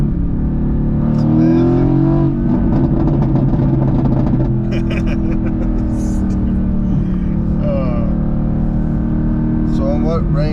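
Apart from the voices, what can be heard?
2016 Mercedes-AMG GT S engine revving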